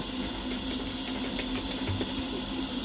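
A lace wig is washed under running water, a steady, close rush of water into a sink with a constant hiss and faint splashing.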